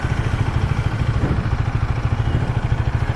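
A Husqvarna Svartpilen 250 motorcycle idles close by on a city street at night, its engine putting out a steady, rapid low thrum with even pulses.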